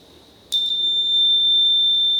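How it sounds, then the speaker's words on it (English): An electric buzzer powered by a homemade voltaic pile switches on abruptly after a brief quiet moment and holds a steady, piercing high-pitched tone close up, with no voices. "what we're going to try now is to see if I can make a buzzer work."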